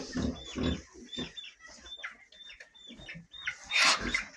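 Hens cluck repeatedly in short, uneven bursts nearby in a barn while a young hen lays an egg, with scattered farmyard rustling and a louder squawking flurry near the end.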